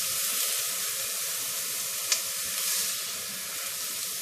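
Onions frying in a pan for Indian spinach and ground meat (palak kheema), giving a steady, close hiss of sizzling throughout, with one brief sharp pop midway.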